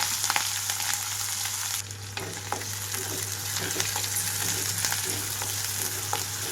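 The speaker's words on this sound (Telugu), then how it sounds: "ఇవన్నీ వేగేటప్పుడే ఉల్లిపాయలు పచ్చిమిరపకాయలు కూడా వేస్తున్నాను" Onions and green chillies, with curry leaves, frying in a pan for an aloo methi fry: a steady close sizzle with scattered crackles and light stirring clicks over a constant low hum, with no talking.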